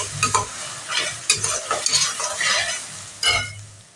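Onion paste frying and being stirred in a hot pan, a steady sizzle broken by several scraping stirs, close and fairly loud with no talking.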